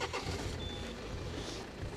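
A Peugeot 406 engine idles after restarting following a crash, a low, even rumble close by with a faint tone above it.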